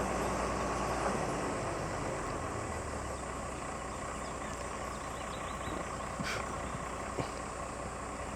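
A tractor engine runs steadily at a distance while working on a ramp of slippery black soil, a low continuous drone with a few faint knocks and clanks.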